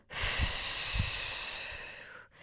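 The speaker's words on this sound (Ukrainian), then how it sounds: "І заключний раз вдих. Видихаємо." One long, deep exhale from a breathing exercise during a pelvic floor workout, close and breathy, with a couple of soft low thumps near the start before it fades out.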